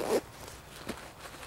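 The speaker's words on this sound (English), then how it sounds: "And then there's another zipper over here." Zipper on a pocket of a Geigerrig 700 hydration pack, a short close rasp at the start followed by a faint second pull, otherwise quiet.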